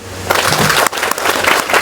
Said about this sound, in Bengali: তাদের জন্য একটা হাততালি দেন